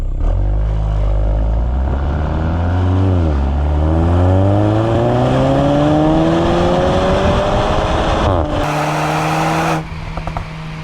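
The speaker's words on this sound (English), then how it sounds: "as well as the sport exhaust, which sounds like this" A Porsche Macan SUV's deep, throaty sport exhaust revs up and down, rising to a loud snarling roar, then settles before a brief crackle as it cuts off.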